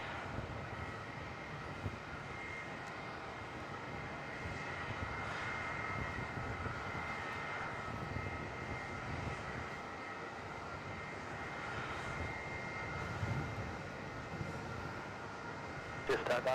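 An airliner takes off from runway 27 at Melbourne Airport at night, a steady broadband jet engine roar holding for the whole stretch at moderate distance, with tower radio talk running underneath.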